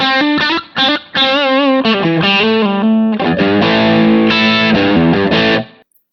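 An electric guitar played through a Harley Benton DNAfx GiT Pro multi-effects unit with a light crunchy distortion, strumming sustained chords and short melodic phrases, loud and close, then letting the last chord ring out.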